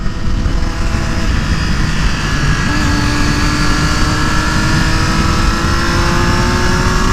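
A Triumph Daytona 675R motorcycle engine with a slipper clutch drones steadily at high revs on a track, its tone shifting slightly as it passes at speed.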